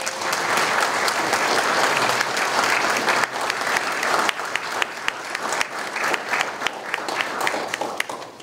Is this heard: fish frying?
no